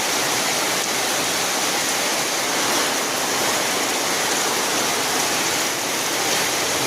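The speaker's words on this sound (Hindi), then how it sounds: "देख सकते हो दोस्तों, इतना बड़ा बारिश दे रहा है।" A heavy downpour in Arunachal hisses and roars continuously, loud and unbroken, like a waterfall filling the whole space with no voices over it.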